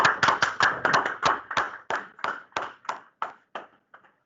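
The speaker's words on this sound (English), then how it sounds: "Let's give them a big round of applause." Applause at a medical society regional meeting comes from a few hands as distinct, close claps that start quickly, then slow, thin out and fade over about four seconds.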